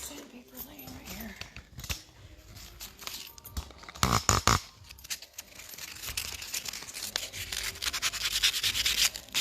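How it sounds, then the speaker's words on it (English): Sandpaper rubs over a painted mirror frame in close, scratchy strokes, with a louder burst of scraping midway and continuous rasping toward the end. "Now when we take a piece of sandpaper to this, we can try it right here."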